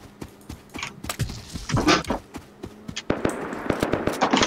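Gunfire in an online shooter game where an M2 is in use: sharp, loud, close shots in irregular bursts and single cracks, some clustered into rapid strings, with no talking.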